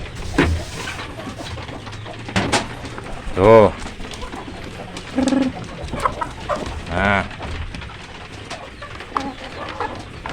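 Chickens cluck and murmur in short bursts close by while eating, with a voice speaking briefly over the flock.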